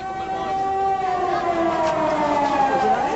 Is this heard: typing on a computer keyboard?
no